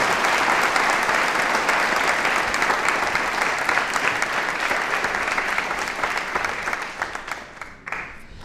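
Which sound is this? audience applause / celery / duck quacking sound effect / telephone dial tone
audience applause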